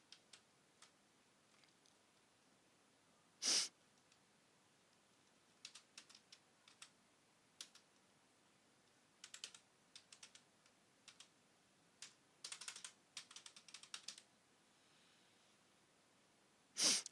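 A computer keyboard is typed on while coding in Java, with sparse single keystrokes and a few short rapid bursts, fairly close and quiet, plus two sharper, louder key hits standing out.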